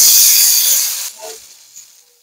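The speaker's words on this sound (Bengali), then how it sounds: "এবার আমি অল্প করে পানি দিয়ে দিচ্ছি।" A loud sizzle and steaming hiss bursts up as a little water hits hot fried spice masala in a pan while cooking a lote fish curry, then fades away quickly.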